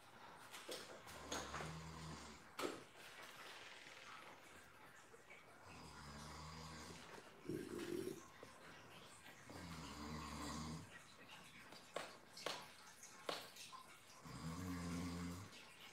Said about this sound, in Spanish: Sí, ronca duro el hombre.